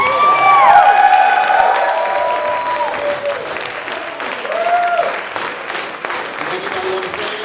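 A crowd at a ballroom heritage awards ceremony during NYC Black Pride claps loudly and steadily, with scattered cheers and whoops rising over the applause throughout.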